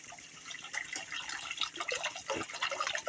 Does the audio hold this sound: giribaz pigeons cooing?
no